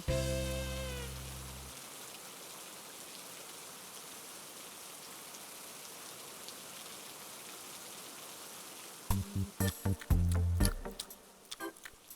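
Steady heavy rain pours down over floodwater, a dense continuous hiss that holds for most of the stretch, with a few louder knocks and splashes near the end.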